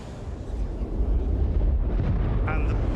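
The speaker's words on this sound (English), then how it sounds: "Shockwave." Shockwave from a spaceship explosion in Star Citizen, a space game: a dense, rumbling rush of low noise that swells and holds for the whole few seconds, loud and enveloping, with no talk.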